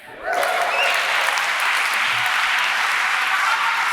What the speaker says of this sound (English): Round of applause for Pete.